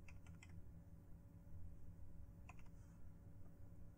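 Light keystrokes on a computer keyboard while modeling a microstrip patch antenna in CST Microwave Studio, a few quick clusters of taps near the start and again past the middle, faint over a steady low electrical hum.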